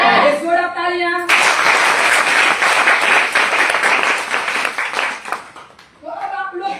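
Seminar audience breaking into loud, dense applause that starts abruptly, holds steady for several seconds, then dies away, with a voice speaking before and after it.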